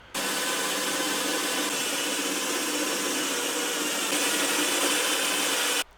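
A miniature spot weld cutter drills steadily into the rocker panel of a Mercury Sable, a loud, continuous grinding whine lasting several seconds before it stops abruptly.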